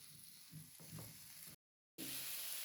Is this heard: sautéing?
yes